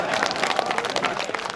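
Applause from the audience at a BJP party workers' meeting, a short dense burst of many hands clapping at close range with crowd murmur mixed in.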